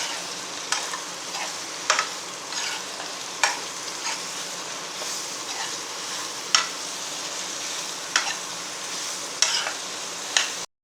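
Soya chunks (meal maker) frying in a pan hiss with a constant low sizzle, broken every second or so by sharp scrapes and taps of a spatula as they are stirred, close and alone.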